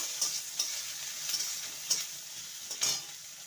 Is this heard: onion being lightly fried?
yes